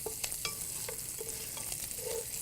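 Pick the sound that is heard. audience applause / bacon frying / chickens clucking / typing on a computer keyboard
bacon frying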